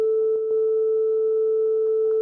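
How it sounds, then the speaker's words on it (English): A pure electronic sine wave at middle A hums steadily and loud, unbroken, with a couple of faint clicks in the background. "but the pure sine wave"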